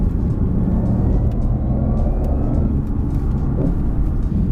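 A 2014 BMW i8 hybrid sports car drives along the road with a steady, full interior rumble of engine and tyre noise; no distinct gear change stands out.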